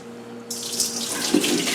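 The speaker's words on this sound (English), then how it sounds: "now to try to pour it into the colander, which is lined with a sterile piece of cheesecloth" Cheese curds and whey for Monterey Jack pour into a cheesecloth-lined colander in a loud, close, splashing gush of liquid that starts suddenly and keeps running, rising slightly in intensity.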